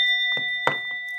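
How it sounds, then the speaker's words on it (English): A bell struck by hand, a few light strikes with bright, sustained ringing tones that hang steadily in the air, fairly close and clear with no talking over it. "I am going to be hitting the bell a little bit"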